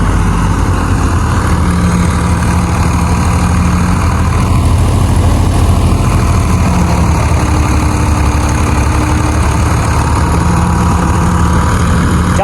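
A tractor engine idles steadily in a village setting, a continuous low, rumbling hum that holds at an even level throughout, with no voices.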